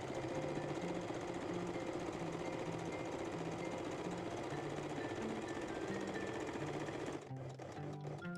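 A sewing machine finishing the long edge of a jersey fabric crotch piece for panties, running in a steady, rapid mechanical whir with rhythmic stitching for about seven seconds before stopping, close by with no talking.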